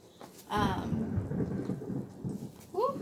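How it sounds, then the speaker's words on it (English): Thunder rolls in a low rumble for a couple of seconds amid steady rain, fairly close, with a brief voice-like call near the end. "It's thunder."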